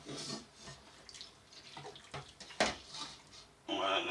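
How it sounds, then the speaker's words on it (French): Water runs off beef for boeuf bourguignon in short splashes and trickles, close and fairly quiet, with a louder pour near the end. "Je fais couler le reste d'eau qui est dans ma viande."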